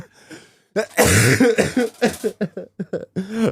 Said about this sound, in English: I was sorry for coughing